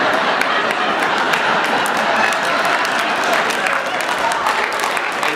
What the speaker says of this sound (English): Dad, you are clapping way too much for Dad